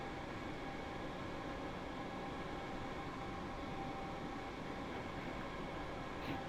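A Class 313 electric train in Train Sim World 2 on the East Coastway runs with a steady, continuous rumble and hiss, unchanging and fairly quiet throughout with no talk.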